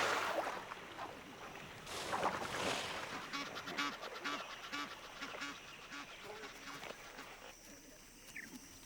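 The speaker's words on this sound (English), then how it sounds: "The Egyptian geese retreat to the scanty protection of some floating foliage." Egyptian geese calling on open water in a wild island wetland, a run of short repeated honking calls in the middle of the clip over a steady background of birdsong and ambient noise.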